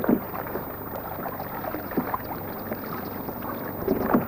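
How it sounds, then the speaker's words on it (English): Racing canoes paddling through water during a canoe competition, one Dutch canoe trailing behind: steady watery splashing and strokes with gusts of wind noise, moderately near and continuous, no voices. "And there goes one of the Dutch canoes, which has dropped behind somewhat."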